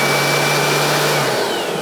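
A Dewalt FlexVolt cordless leaf blower on a 9 amp hour battery runs at full power with a loud, steady rushing whine and a constant airflow roar, heard up close with no talking.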